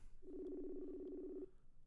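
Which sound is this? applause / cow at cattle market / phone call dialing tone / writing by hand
phone call dialing tone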